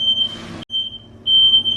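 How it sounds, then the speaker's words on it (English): A shrill, steady smoke-alarm tone sounds through most of the moment, briefly cutting out, over a rumble of background noise and kitchen activity in a home kitchen with the oven at full heat. "And the smoke alarm's going off."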